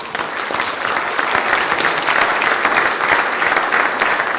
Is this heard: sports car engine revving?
no